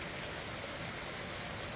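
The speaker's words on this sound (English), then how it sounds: "this is the initial rain" Steady initial rain from Tropical Storm Debby in The Villages, Florida, a dense, even hiss of falling water that fills the whole moment without breaks.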